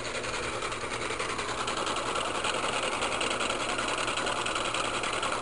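A three-phase electric motor runs with a steady, dense mechanical whir and rapid rhythmic clatter, holding constant and fairly loud throughout with no speech.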